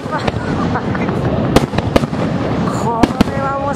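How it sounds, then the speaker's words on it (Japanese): Fireworks bursting at the Lake Ashi fireworks festival in Hakone, with several sharp, loud bangs over a dense crackling bed while a crowd talks and exclaims throughout. "打ち上げましたよ花火。"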